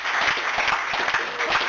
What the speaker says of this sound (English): So I think we can give them a round of applause.